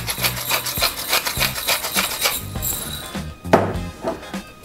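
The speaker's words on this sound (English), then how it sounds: "Okay, some fresh ground pepper." Fresh black pepper is ground by hand from a mill while cooking beef tripe in a pressure cooker: a repeated, rhythmic gritty rasping, close and fairly loud, with no talk.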